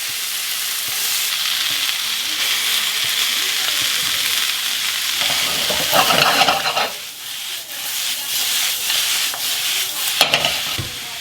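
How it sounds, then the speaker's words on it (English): Onions hitting a pan of melted butter over low heat, a steady loud sizzle with stirring and scraping bursts midway and near the end. "I'm going to throw the onions in."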